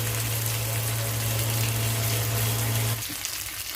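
Pandugappa fish fries in a pan with a steady, dense sizzling hiss alongside a low hum that cuts out near the end, leaving the sizzle alone.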